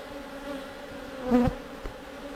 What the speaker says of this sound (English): And just a lot of bees, that's all.